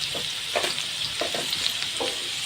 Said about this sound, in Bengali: এখানে নেড়ে নিচ্ছি না নাড়লে তো মশলাটা লেগে যাবে